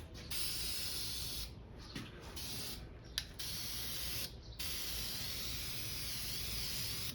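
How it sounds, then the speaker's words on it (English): Continuous loud hiss of a spray gun applying a medium wet coat of primer in several long passes, broken by brief pauses between bursts, close by. "So I thought I'd give you a look and see how I spray a medium wet coat."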